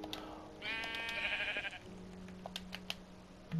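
Sheep bleat in Minecraft on a built sheep farm, one drawn-out nasal bleat followed by a lower steady tone, set against quiet keyboard typing clicks and faint game ambience.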